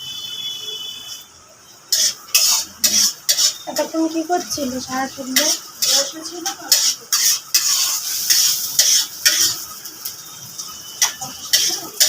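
Onions frying in a pan for Malda-style Maggi are stirred with a utensil, giving rhythmic scraping and clinking strokes against the pan over a low sizzle, while a voice talks briefly.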